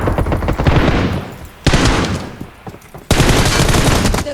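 Dense bursts of rapid automatic gunfire in PUBG Mobile, loud and close, coming in three long volleys separated by brief dips, with no talk over them.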